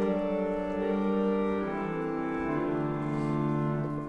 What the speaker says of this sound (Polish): Na przykład ten obój brzmi tak.